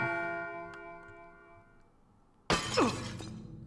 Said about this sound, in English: The glass explodes.